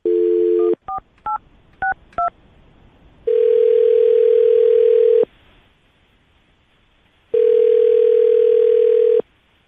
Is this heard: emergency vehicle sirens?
no